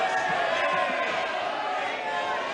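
Applause in the Indian parliament during a no-confidence motion debate: a dense, steady wash of many hands clapping throughout, with voices mixed in underneath.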